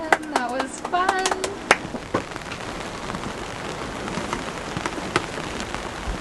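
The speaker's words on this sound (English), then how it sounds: "Nice little morning rain." Light morning rain in the Marquesas, French Polynesia, patters on a surface with scattered drips, steady and soft; at the start a few people talk briefly before the rain continues alone.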